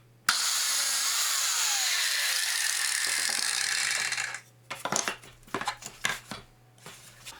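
A biscuit joiner blade plunges into a 1 1/2 inch wood workpiece to cut a mortise, a loud steady whine for about four seconds, then the motor stops and scattered clatter and knocks follow.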